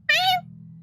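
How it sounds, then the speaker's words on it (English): A single short cat meow in the Genshin Impact video game, bright and close, followed by a faint low hum. "And cat noises."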